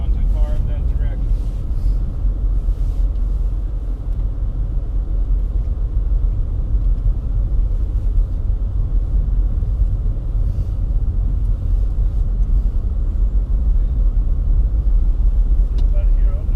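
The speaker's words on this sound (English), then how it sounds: "Don't even give it no gas. Just let it idle." A car stuck in snow idles steadily with a low, constant engine rumble close by, while people talk and call out over it.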